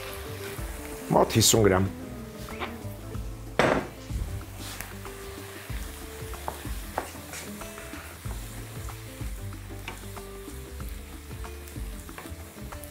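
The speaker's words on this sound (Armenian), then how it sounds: "Համեմում ենք կիսաանապակ սպիտակ գինով," Semi-sweet white wine poured into a hot frying pan of mushrooms, bursting into a loud sizzle with scraping and stirring, then settling into a steady frying hiss, with a voice speaking briefly over it.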